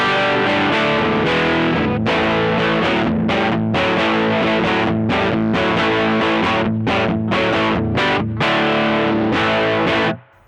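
Electric guitar played through a Bogner Ecstasy Blue overdrive/distortion pedal with gain boosted, chugging chords and short stabs with crisp gaps between them, loud and close.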